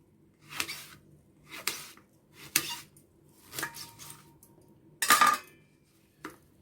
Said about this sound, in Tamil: சாம்பாருக்கு இப்படி தான் நறுக்கி போட போகிறோம்.